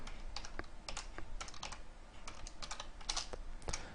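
Fast, steady key clicks come from a computer keyboard as C++ code for a Qt application is typed, near and continuous with only brief gaps.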